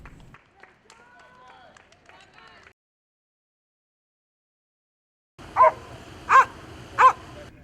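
Police K-9 dogs, Belgian Malinois in training, give three loud, sharp barks in quick succession after a stretch of faint background sound and silence.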